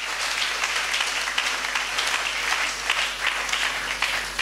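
A church congregation applauds in acclamation of the Lord, dense sustained clapping filling the hall evenly from start to finish with no speech over it.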